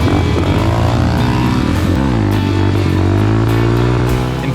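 A motorcycle engine catches after a push start on pavement, running loud and close with a steady, rough droning tone that rises in pitch midway as the revs climb, with no talk over it.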